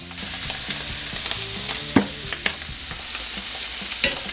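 Cajun-seasoned seafood for an étouffée fries in a pan with a loud, steady close-up sizzle, while scattered clicks and scrapes of a utensil flip and shift the pieces.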